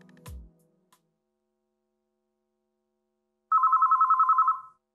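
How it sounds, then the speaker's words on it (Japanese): A telephone in WHITE ALBUM rings with a single burst of rapid electronic trills, loud and clear, after a short thud and a stretch of silence. "電話？"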